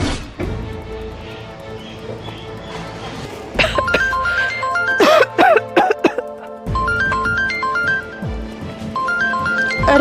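A phone ringing with a repeating electronic melodic ringtone, looping in steady bursts through the second half, heard alone without talk.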